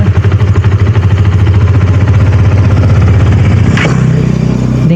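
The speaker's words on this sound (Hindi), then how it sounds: "और हम अपना गाड़ी एक बार स्टार्ट कर लेते हैं।" A motorcycle engine with a failed ECU runs loud and close, a steady rapid idle throb that shifts with a quick rev blip near the end before settling back to an even idle, with no talk.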